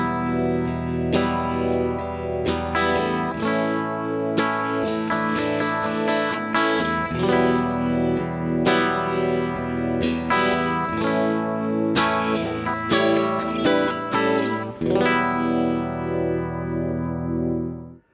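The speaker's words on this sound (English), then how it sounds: "this is another clean patch with phaser on it, a modulation type effect" A clean electric guitar patch played through phaser, reverb and delay, with a PRS guitar into Mesa Boogie amplification, rings out in continuous chords and melodic lines, sweeping and swirling, before fading out at the end.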